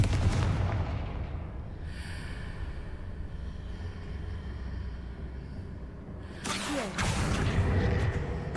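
A Confringo blasting spell goes off in Hogwarts Legacy, heavy rumbling explosions with a roaring, noisy tail, a second loud burst and whoosh arriving near the end.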